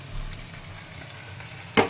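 Bora fritters fry in a pan over high flame, giving a steady close crackling sizzle that ends in a brief louder clatter, like a stir or utensil knock.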